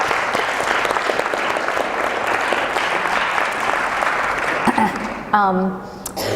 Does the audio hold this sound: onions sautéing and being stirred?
no